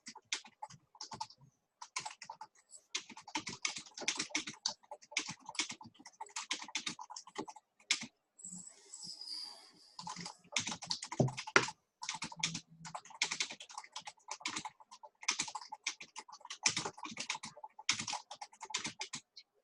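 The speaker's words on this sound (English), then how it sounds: "I can't talk and type at the same time" Rapid typing on a computer keyboard clicks away in quick bursts and short pauses, close and fairly quiet, with no talking.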